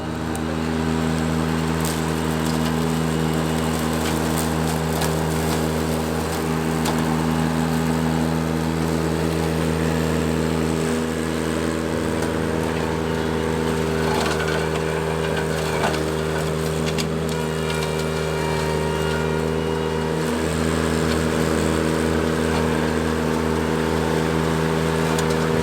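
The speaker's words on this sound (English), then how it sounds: "then we let the Ventrac do its work, mowing down some brush to begin preparing our site" A Ventrac tractor mows down brush, its engine a loud, steady droning hum throughout, with crackling and thrashing from the cut vegetation layered over the constant motor.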